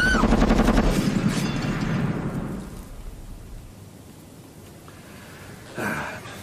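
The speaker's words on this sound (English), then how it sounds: "Nice shooting." A loud burst of rapid gunfire from a film shootout opens, then the blasts give way to a fading rumbling echo and near quiet, with one more thump near the end.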